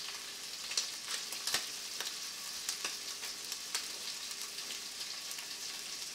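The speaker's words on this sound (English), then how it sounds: "Just get them down on the pan so that they cook." Shrimp sizzling in a pan, a steady crackling hiss with scattered sharper pops, moderately quiet and close, with no voices.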